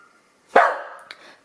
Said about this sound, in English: I don't know if you guys can hear the dogs barking outside